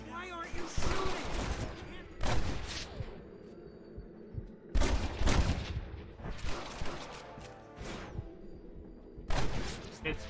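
Gunfire in Red Dead Redemption: clustered volleys of sharp shots in four or five loud bursts separated by quieter gaps, with rumbling echo trailing each volley.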